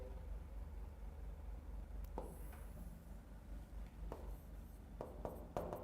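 A pen writes out the given terms of a physics problem, giving faint, quiet scratches that come in short strokes, sparse at first and then quicker near the end, over a low background hum.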